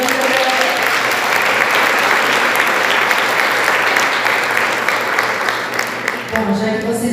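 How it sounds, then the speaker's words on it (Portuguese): A church congregation at an evangelism seminar applauds loudly, a thick continuous wash of clapping that tapers slightly near the end as a voice and a tone cut in over it. "Vamos aplaudir o Senhor."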